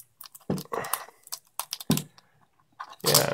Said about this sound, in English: This is like a protection for the display. We're not gonna see much unless we take it away, so I have to peel it off somehow.